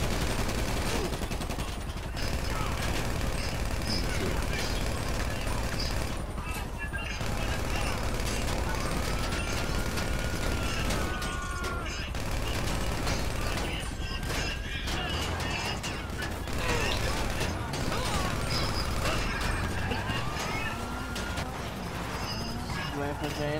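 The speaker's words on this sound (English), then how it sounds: "Fucking pull out my assault rifle" Dense assault rifle gunfire in a GTA Online store robbery, rapid bursts and volleys stacked over a constant loud din with game noise throughout and voices mixed in.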